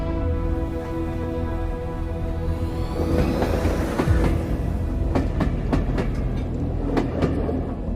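A train rumbles steadily along the rails, with a continuous low roar and occasional sharp metallic clacks and squeals from the wheels.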